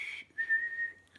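A captain's whistle gives a short shrill burst followed by a longer steady tone, fairly faint and close, with no talk over it.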